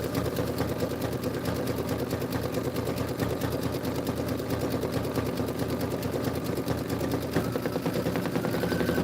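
An embroidery machine stitches a Kimberbell Home Sewn Volume 2 July tiling scene design, giving a steady, dense, rapid mechanical rattle that runs without a break at an even level throughout.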